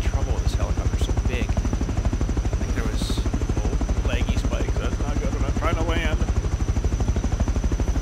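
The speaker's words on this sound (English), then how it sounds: "That's the trouble with this helicopter." Close helicopter rotors in the video game Rust thump in a fast, steady rhythm throughout, with scattered bursts of gunfire and brief muffled voices over the drone.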